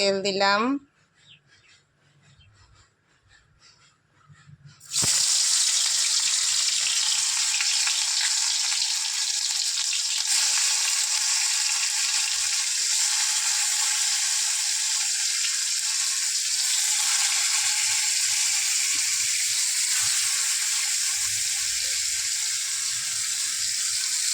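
Bitter gourd pieces dropped into hot oil set off a sudden loud, steady sizzle after a few quiet seconds, and the frying hiss carries on evenly and close throughout.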